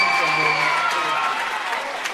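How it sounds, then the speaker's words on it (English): A crowd applauds the MVP at an all-star high school volleyball event in a gym, a steady wash of clapping with a voice or tones sounding over it. "How about a big round of applause for our MVP?"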